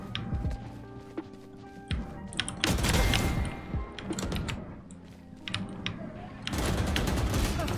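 Rapid gunfire bursts from the video game Valorant crackle in several loud volleys, mixed with keyboard clatter and a voice talking over the action.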